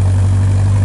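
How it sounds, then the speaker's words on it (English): A 1951 Morgan Plus 4 engine runs steadily, a loud close-up drone with a strong low hum and no change in pitch over the short stretch. "The motor runs, motor super comfortable"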